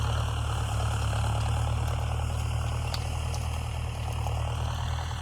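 A tractor engine idles steadily in a harvested maize field being readied for rabi sowing, a constant, close, deep rumble that runs unbroken throughout with no voices.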